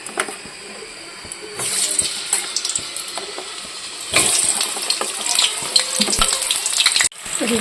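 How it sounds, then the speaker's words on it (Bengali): Potatoes fry in a pan in a home kitchen, a steady watery hiss that swells louder partway through, with scattered clinks and a brief break near the end. "এদিকে তো আলুটা ভাজতে দিয়েই দিয়েছি"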